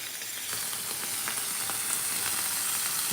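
Shrimp sear in a hot pan with a steady, dense sizzle and scattered crackling pops, close and continuous with no talk.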